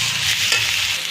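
Chopped onion sizzles steadily in hot oil in a pan with ginger-garlic paste and ground spices, heard up close as a loud, continuous frying hiss with light stirring and no talk.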